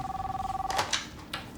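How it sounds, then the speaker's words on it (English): A telephone rings with a buzzing, warbling trill for most of a second, then is cut off by brief clicks and shuffles close by. "my phone started ringing off the hook"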